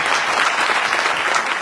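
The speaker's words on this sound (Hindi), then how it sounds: "इसके लिए उनके लिए जोरदार ताली होनी चाहिए" Loud, dense applause from an audience at a talk event, steady clapping filling the whole moment without any speech over it.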